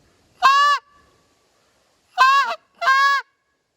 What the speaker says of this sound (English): the moan is one of the most important sounds in the goose call repertoire